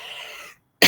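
A single harsh cough from a lecturer during a university analytical chemistry class, loud and close, following a short breathy sound and a moment of silence.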